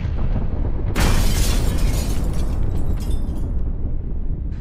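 Two missiles strike and flatten a village in an animated scene: a sudden loud blast erupts and rolls into a sustained, heavy rumbling roar with crackling debris that gradually thins out, no voices.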